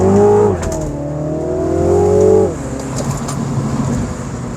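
A Mini Cooper John Cooper Works with its sport exhaust engaged revs up and drops back in the gear shifts of a run, loud and close, with a rising engine note that falls off into a rougher, lower burble.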